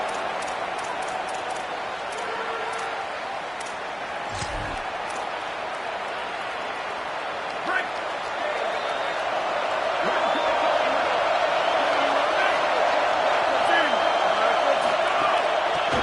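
A stadium crowd at a college football bowl game in an NCAA video game roars steadily, swelling louder toward the end, while play-by-play commentary runs over it.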